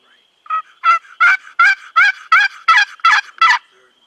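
A wild tom turkey gobbles in the open, a string of about nine rapid, evenly spaced rattling calls that comes through clear and fairly close against a quiet background.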